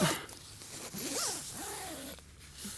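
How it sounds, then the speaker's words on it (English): A ventilation zipper on a tent pulled open in a few quick rasping strokes, close by and fairly quiet against an outdoor background. "So this zipper is the ventilation zipper."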